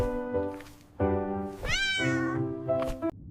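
A cat meows several times while eating: drawn-out, rising and falling meows, close and distinct, separated by short pauses, with no talking.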